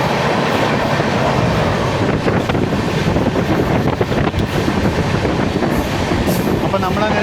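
A diesel train travels through Gujarat on the long Okha to Kozhikode route, giving a loud, steady rumble of wheels on rails with clickety-clack beats and heavy wind buffeting the microphone.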